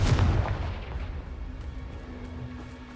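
Fiery blasting-spell explosion from the Hogwarts Legacy game: a loud, booming burst at the start that decays into a rumbling tail with a faint lingering tone.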